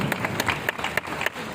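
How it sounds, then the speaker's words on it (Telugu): A seminar audience in Hyderabad applauds for a second or two, a dense patter of many hands with a few sharper claps standing out, fairly close and steady, with no voices over it. "క్లాప్స్ ఇవ్వండి"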